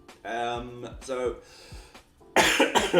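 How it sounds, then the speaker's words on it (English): A man coughs several times in short bursts, close to the microphone, with throat clearing between the coughs and a rougher, louder cough cluster at the end. "As I cough just a little bit more"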